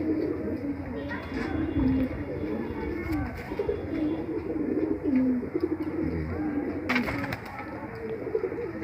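Pigeons coo steadily in a loft, with soft repeated low calls and some chirps layered over constant background noise and talk throughout.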